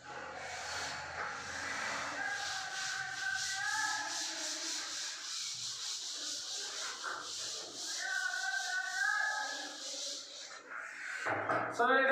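A duster rubs writing off a classroom board in long, scratchy strokes that run for several seconds, with brief voice-like sounds in between.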